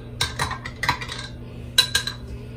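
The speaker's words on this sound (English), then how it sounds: "You stir it." A metal spoon stirring garlic in a glass of water gives quick clinking taps against the glass in two short bursts with a pause between, close and clear with no talking.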